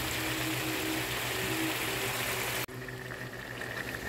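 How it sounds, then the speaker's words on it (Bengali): Beef bones go into a pot of cooked-down masala for beef nihari: a steady bubbling sizzle, then a sharp change in tone as the bones drop in and the cooking sound continues more subdued. "এখন এখানে আমি সব হাড়গুলো দিয়ে দিব।"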